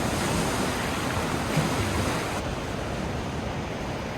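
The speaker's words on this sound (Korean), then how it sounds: "파도 소리가 일품입니다." Ocean waves washing against a rocky coast near a sea cave along a seaside trekking trail on the East Sea, a continuous loud surging roar with no voices.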